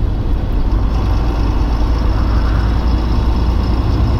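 A 1988 Volvo F10 320 truck's heavy diesel engine rumbles steadily and loudly from inside the cab while driving, a constant low drone with no talk.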